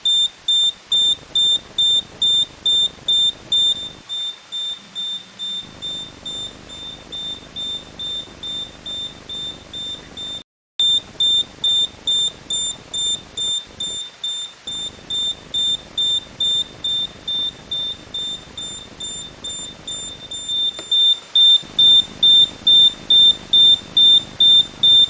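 A homemade barometer storm alarm built from a Coca-Cola bottle beeps steadily in a fast, regular series of sharp, high electronic tones, loud and close, broken by a few brief pauses.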